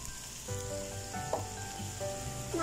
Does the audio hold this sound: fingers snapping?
no